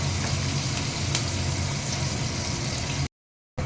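Onions frying in hot oil give a steady, dense sizzle heard close up and without talk. It cuts out abruptly to a half-second of silence before it resumes.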